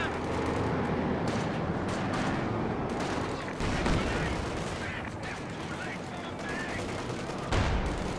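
Panzer IV tank cannon fire and battle noise in a WWII strategy game, with gunfire bursts amid steady combat rumble and a commentator's voice over it.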